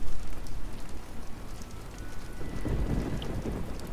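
Steady rain pours and a low rumble of thunder rolls through the middle of a thunderstorm in the online game Justice Online, with no voices.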